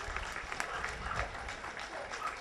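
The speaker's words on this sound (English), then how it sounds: "please give them a round of applause as well" A crowd at a guide dog walk-a-thon claps for the volunteers: steady, soft, crackling applause that sounds distant and low in level throughout.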